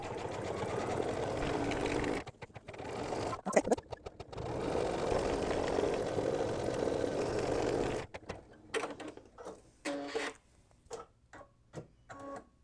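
An embroidery machine stitches a quilted mug rug over a seam, a fast mechanical rattling hum running steadily, then breaking into short stop-start bursts near the end.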